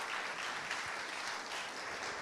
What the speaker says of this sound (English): could we like backfill the round of applause for Upselera